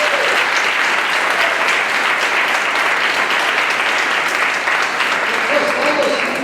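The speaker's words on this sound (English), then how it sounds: "I'd like to really give a big round of applause to our staff members" Steady, dense applause from a graduation ceremony audience honoring staff, loud and continuous throughout without a break.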